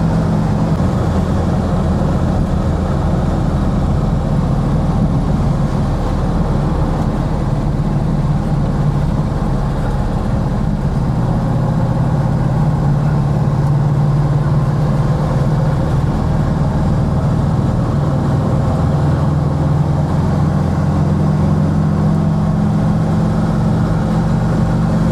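A 1966 Volkswagen Karmann Ghia on the road, its engine giving a continuous low drone with a steady rumble for the whole stretch and no other sounds.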